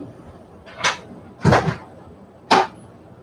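A door is knocked on three times in separate, spaced thuds, fairly close and distinct against a quiet room.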